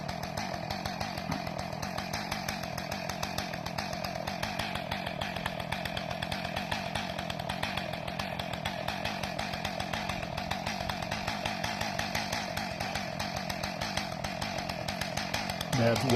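Chainsaw idling and running steadily nearby in cold weather during spur clipping on trees, a constant throbbing engine drone throughout.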